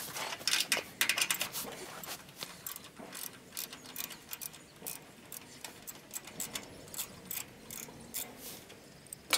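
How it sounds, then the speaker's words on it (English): A ratchet fitted with an extension and half-inch socket works a self-tapping screw loose on a Troy-Bilt Pony riding mower deck, giving quick bursts of sharp clicking pawl strokes with brief pauses, close and clear with no talking. "To take this self-tapping screw out, we're going to use an extension and a half-inch socket."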